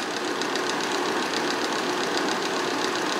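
A space heater runs at high power from a portable solar generator, giving a loud, steady fan whoosh with a faint rhythmic pulsing throughout and no talking.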